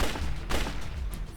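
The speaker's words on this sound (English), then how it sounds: "Now you shoot at him and you shoot at him." Rapid gunfire in the video game March of the Living, a dense burst of close, loud shots fired in quick succession.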